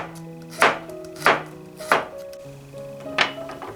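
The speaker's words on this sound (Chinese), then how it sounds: "蒜切片儿" Garlic sliced with a knife on a cutting board: four or five distinct close chopping knocks at uneven intervals, with no other sound.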